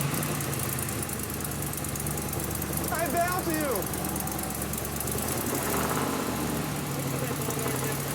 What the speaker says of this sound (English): With the engine up and running, it's time to test the Z28's muscle.